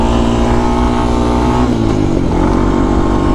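A Honda TRX 250X ATV engine roars loud and close while downshifting on a rocky climb, its pitch dropping mid-clip before it pulls again under load.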